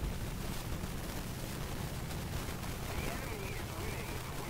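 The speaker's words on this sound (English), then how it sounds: "Ostwind is shooting at us." Ostwind anti-aircraft tank gunfire in War Thunder rattles as dense, noisy bursts blending into a constant roar of battle, with talk faintly mixed in.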